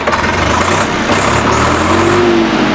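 A tractor engine runs loud and close in Farwahi village near Barnala, Punjab. It rumbles steadily and revs up toward the end, with no talk over it.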